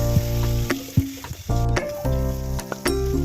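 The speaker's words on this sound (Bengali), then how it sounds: "মাথাটা এবার ভেজে নেবো।" A catla fish head fries in hot oil, a loud close sizzle broken by several sharp clatters and pops as it is turned and moved in the pan.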